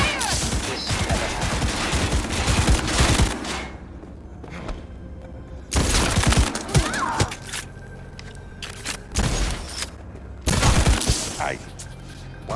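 Bursts of gunfire in Cyberpunk 2077, loud dense volleys with sharp cracks and thuds, broken by quieter gaps, the final bursts shorter and spaced apart.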